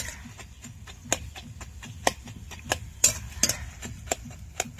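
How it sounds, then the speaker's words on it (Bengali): A spatula stirs and breaks apart clumped gram-flour boondi in a pan, producing a steady series of sharp metallic taps and scrapes against the pan, close and fairly loud over a low frying hiss. "মাঝে মাঝে কিন্তু দলা পাকিয়ে যেতে পারে, খুন্তি দিয়ে ওটাকে ছড়াই দিতে হবে"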